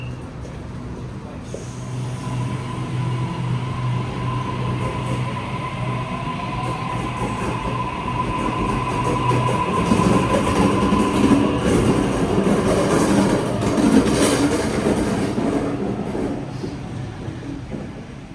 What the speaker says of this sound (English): Here we go, another train's arrived